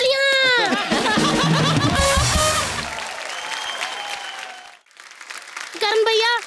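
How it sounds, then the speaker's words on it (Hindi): A studio audience at a comedy show bursts into loud applause and cheering, which fades after about three seconds into quieter talk before voices pick up again. "तालियां।"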